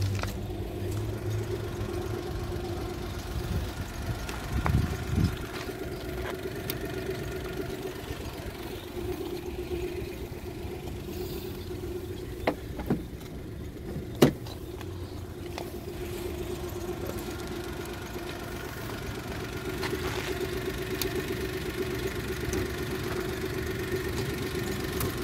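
A used Daewoo Matiz small hatchback idles with a steady low engine hum throughout, with a light hiss above and a couple of faint clicks and a sharp knock partway through, no voices.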